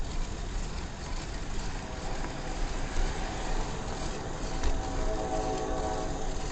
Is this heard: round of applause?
no